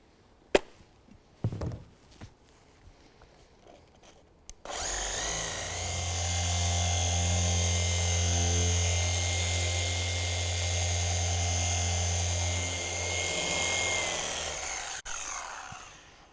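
A machine polisher spins up on a ceramic-coated car hood, giving a steady, loud motor whine and hum that runs for about ten seconds before stopping, after a few light knocks and handling noises.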